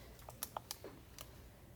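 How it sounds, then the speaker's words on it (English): Several light, quiet keypresses tap out an equation on a calculator's keys, spaced irregularly as isolated clicks with a brief pause in the middle, no talking. "We can just type the equation in."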